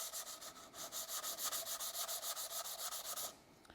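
Sandpaper rubs back and forth over a primed fiberglass model rocket body tube in a fast, steady rhythm of about twenty even strokes, close and continuous before stopping.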